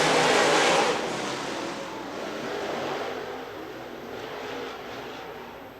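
Late model race cars circling a track under a yellow caution flag, a continuous broad engine drone that swells briefly then settles into a steady distant rumble, with no talk over it.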